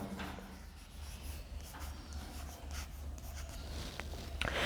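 A pen scratches across paper while an accounting entry is written out, a continuous close scribbling rub with steady texture and no voices.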